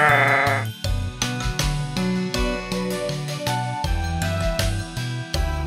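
A toy sheep in a Peppa Pig toy story lets out repeated bleats over a bright, jingly music track, the animal calls loud and close, with no talk.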